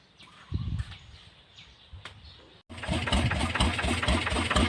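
After a few quiet knocks and rustles, a small engine with a plastic fuel tank kicks in and runs loud and steady, a rough, busy drone close by, giving off smoke.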